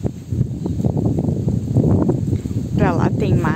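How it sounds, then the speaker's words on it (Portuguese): Strong wind at a beach campsite roars steadily over the microphone as someone talks over it throughout. "Bastante vento hoje."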